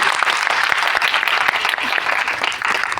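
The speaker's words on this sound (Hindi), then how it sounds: "आप जोरदार ताली अपने स्कूल के लिए बजाएं" School audience applauding loudly at an Indian education board event, a dense sustained burst of clapping from many hands filling the room, steady and strong without speech.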